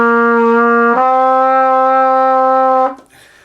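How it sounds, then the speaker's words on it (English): A trumpet plays two slurred notes, C then D, smoothly connected without tonguing, one held then stepping up, loud and close, ending with a brief breath. "I slurred those 2 notes."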